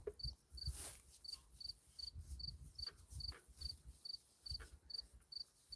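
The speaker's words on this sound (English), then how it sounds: "we can move to a different spot and find different crickets" Crickets in a marsh chirp in a regular, evenly spaced pulsing rhythm, clear and fairly close, over faint low rustling and background noise, with no talking.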